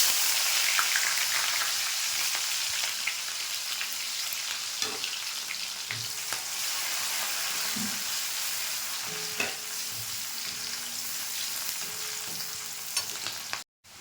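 Steady, hissing sizzle of onions frying in hot oil with nigella seeds, with occasional scrapes and taps of stirring, close up and continuous.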